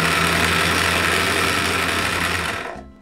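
Small USB-powered electric motor running, a steady buzzing whir close by that holds evenly before winding down at the end.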